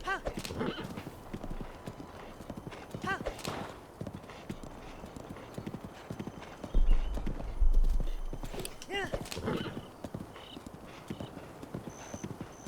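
Rhythmic hoof clip-clops from a horse trotting in The Legend of Zelda: Breath of the Wild go along steadily, with a whinny partway through and someone talking over it.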